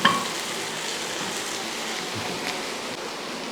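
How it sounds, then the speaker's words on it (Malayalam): Onions and green chili sautéing in a pan for an onion curry, giving a steady, even frying hiss throughout with a small clatter at the start and no voices. "ഇപ്പോൾ ഉള്ളിയൊക്കെ വഴറ്റി വരുന്നുണ്ട്"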